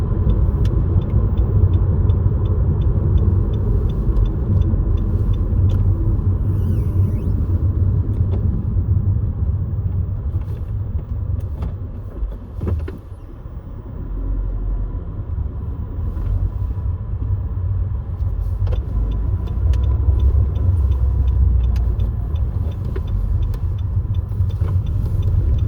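A car cruises along city streets toward the motorway, heard from inside the cabin as a steady, low road and engine rumble that dips slightly midway and then settles back to a constant drone.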